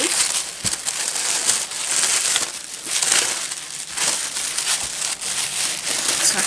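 Pink and red heart-printed tissue paper being unwrapped from a rolled, packaged soft canvas, giving steady close crinkling and crumpling for several seconds with brief louder rustles and no talk.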